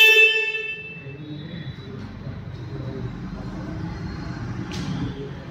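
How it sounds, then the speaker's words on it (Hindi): A short harmonic honk from the horn of a 2024 KTM Duke 390 motorcycle at the start, fading into quiet background rumble with a faint voice afterward. "तो गाइज ये इसका हॉर्न है"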